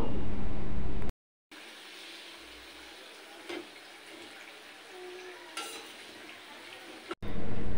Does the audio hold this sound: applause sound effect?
no